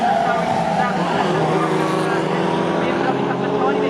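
A BMW and a Ford Escort, pre-1983 Group 1 touring cars, race side by side at Snetterton, their engines a loud, sustained, rising howl under excited race commentary.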